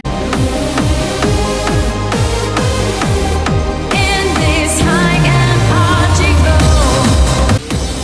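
Dense Italo disco/Eurodance-style electronic music with layered synth notes over a pulsing bass, then a long sliding pitch bend sweeping downward, loud and continuous.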